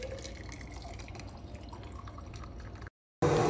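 Boiling water trickles into a tea thermos as a quiet, steady liquid splash and drip. It cuts to silence, then a louder burst of water noise follows.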